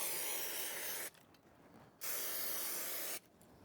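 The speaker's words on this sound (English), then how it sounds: "Doesn't spray upside down." Aerosol spray can hissing in two bursts of roughly a second each, separated by a short pause, close and fairly quiet, used while fitting a sound blanket on an air conditioner compressor.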